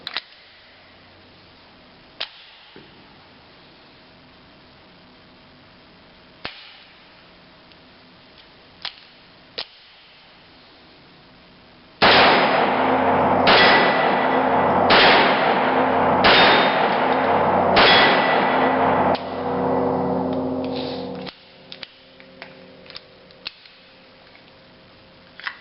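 Hi Standard Dura-Matic .22 pistol firing Federal Champion ammunition: scattered faint clicks, then a rapid string of five or six sharp, loud shots with lingering echo, followed by quiet handling sounds.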